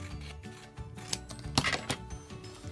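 Scissors trim a strip of paper for a junk journal, a few close snipping and rustling sounds in quick succession with no talking.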